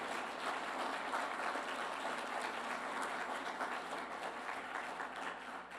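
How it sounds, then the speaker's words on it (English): Audience applauding four panelists at a community forum on financial challenges, a continuous, even wash of clapping from a room full of people, faint and somewhat distant, with no voices over it. "if we could get one more round of applause for all four panelists"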